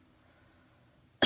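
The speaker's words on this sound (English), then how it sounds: "Ooh, I got a nasty cough" A single sharp cough bursts out at the end after near silence, close and loud.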